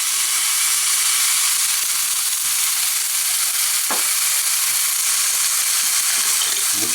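Turkey thigh searing skin-side down in a dry pan, a loud, steady, close sizzle with broad hiss throughout and one brief clink partway through.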